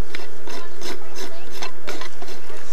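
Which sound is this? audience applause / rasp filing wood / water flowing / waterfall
rasp filing wood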